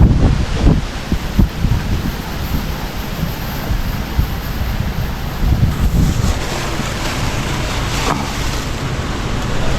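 Strong water rushing at an outdoor bathing spot where tilapia are kept, a loud continuous wash and churn with bursts of splashing, steady and close throughout with no talk.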